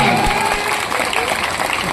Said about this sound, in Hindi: सब लोग अब ताली बजा लो रे।